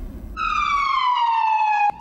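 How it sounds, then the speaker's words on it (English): A loud police siren wails at night with a steady, slowly falling tone, then cuts off abruptly near the end. "Sirens piercing through the night in a quiet town"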